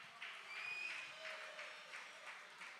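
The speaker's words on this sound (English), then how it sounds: "Let me get a round of applause in the house if you're crazy." Faint audience applause at a tech and philanthropy talk, a soft steady patter of clapping heard from a distance with no voices over it.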